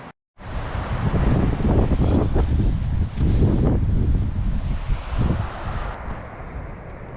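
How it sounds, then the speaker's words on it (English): Strong, steady wind roars across the microphone on a mountain hike near Kebnekaise, Sweden, gusting continuously for several seconds before easing slightly near the end; no voices. "It's windy and there was a drizzle of rain"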